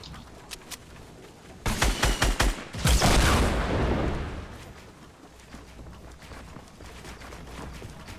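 Gunfire in Fortnite, a few scattered shots followed by a rapid burst of close, loud fire, then a heavy blast that fades out into quieter ambience with occasional distant pops.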